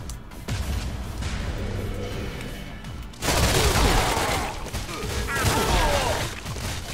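Machine gun fire in the video game Crash Commando, sustained rapid bursts that grow louder and denser partway through, with clanks and crashes mixed in and a voice talking over it.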